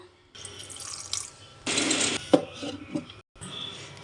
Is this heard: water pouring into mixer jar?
yes